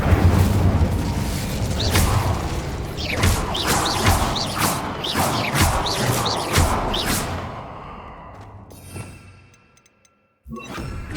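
Incendio fire spell cast repeatedly in the video game Hogwarts Legacy: a run of loud whooshing, crackling fire bursts with booming hits for about seven seconds, then fading and cutting off, followed by a fresh burst near the end.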